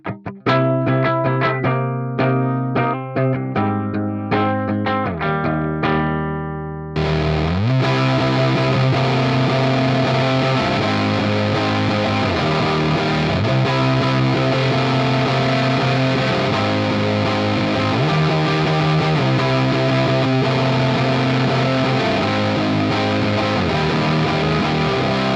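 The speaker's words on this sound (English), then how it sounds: "It is the Big Muff sound that I've had in my head." An electric guitar plays through a Big Muff fuzz pedal into a Hiwatt DR103 amp model on a Fractal unit. Clean, plucked chords ring first; then the fuzz kicks in with a loud, thick, sustained distorted tone that continues without speech.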